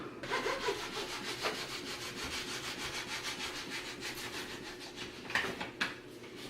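A knife cuts venison into quarter-inch slices for jerky on a guide board, producing a quiet, steady rasping stroke sound with regular rhythmic pulses and a few sharper knocks near the end.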